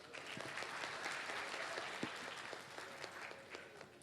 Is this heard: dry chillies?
no